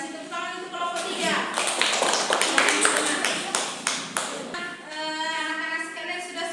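Fifth-grade pupils in a classroom clap for group 3 after a science experiment, a loud burst of many hands applauding in the middle of the clip, with children's voices talking around it.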